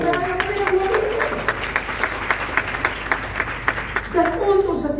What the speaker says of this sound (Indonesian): Kita kasih tepuk tangan yang meriah buat Tuhan.